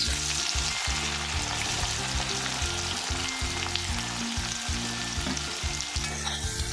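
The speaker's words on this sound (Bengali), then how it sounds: "খুব ভালো করে নেড়ে চেড়ে আমি পেঁয়াজটাকে লাল লাল করে ভেজে নেব" Chopped onions frying in oil with bay leaves and three dried red chilies for a beef curry, a continuous close sizzle with repeated rhythmic stirring scrapes throughout.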